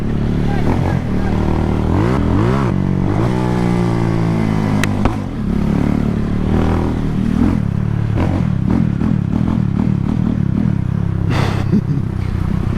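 A motorcycle is revved out on a Jamaican road, its engine rising in pitch through repeated climbs and drops and running loud and close throughout, with voices mixed in.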